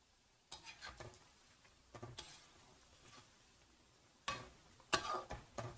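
Namak pare frying in ghee make a very faint, sparse crackle, with brief clusters of pops and sizzling bursts separated by near-silence.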